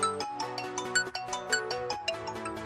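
Ringtone melody played through a freshly cleaned mobile phone speaker, bright repeating electronic tones in a quick rhythmic pattern, clear and fairly close with no talk.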